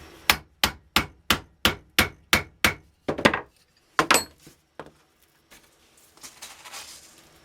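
Hammer whacks ramming charcoal fuel into a three-quarter-inch spark gerb tube: about a dozen sharp, evenly spaced blows close up, then scattered lighter taps and faint scraping.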